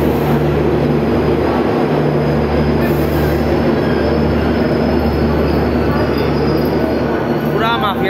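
The Humsafar Express passenger train rolls loudly and close past a station platform at night, a steady heavy rumble of wheels on rails with a long squealing tone and a brief high whine near the end, no clear voices.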